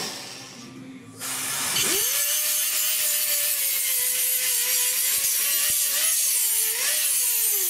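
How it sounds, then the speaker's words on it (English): A power grinder takes the burr off a metal patch panel during inner roof rust repair on a 1969 C10, starting abruptly and then holding a loud, continuous, harsh whine close by. "Let me grind the burr off."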